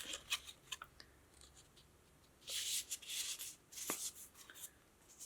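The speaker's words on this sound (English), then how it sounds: "I've folded my triangle in half" A paper triangle is folded in half by hand, heard as soft, close crinkling and rustling with brief crisp creasing bursts.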